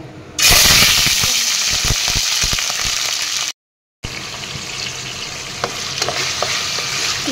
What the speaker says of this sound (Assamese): অলৰেডি মই কেৰাহী বহুৱাই দিছোঁ তেলখিনিও দি দিছোঁ তেলখিনি গৰম হৈছে